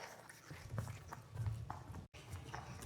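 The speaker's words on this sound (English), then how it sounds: "Listen, footsteps coming from this direction." Footsteps approach at a steady walking pace, a series of soft, evenly spaced thuds with clip-clop-like knocks, fairly close and moderately loud with no talk, during a middle school arts festival performance.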